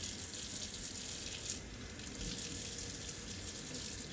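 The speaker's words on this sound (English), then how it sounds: "these I am going to just do quickly with the water on" Tap water runs steadily from a faucet into a sink while brass horn valve bottoms are rinsed, a continuous close hiss and splash that holds level for the whole stretch with no voices.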